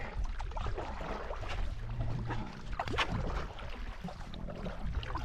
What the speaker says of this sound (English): Easy paddle.